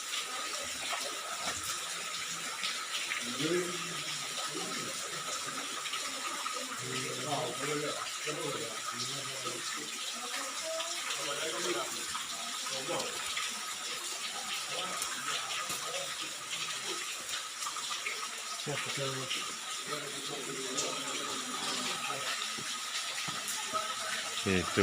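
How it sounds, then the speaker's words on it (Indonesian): Steady broadband rush of river water flowing near the Tukad Cepung waterfall in Bali, heard close and continuous through the whole stretch, with faint voices and footsteps of people walking along the riverbank. "Kita akan melewati sungai."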